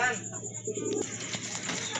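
A pair of fancy pigeons coos softly nearby, low throaty calls under someone talking.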